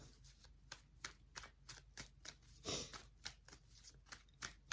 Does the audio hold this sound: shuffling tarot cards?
yes